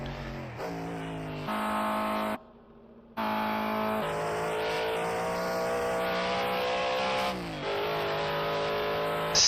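Matra race car in a racing game on the Targa Sicilia Rinascita track, engine screaming at high revs with rising and falling pitch through gear changes, one brief drop in the middle, then a long sustained wail down the straight.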